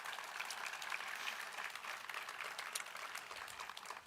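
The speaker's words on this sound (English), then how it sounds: "Let's have a round of applause for her." An audience claps at a government announcement event with state and federal officials, producing brisk, fairly even applause from a modest crowd, heard alone without talk.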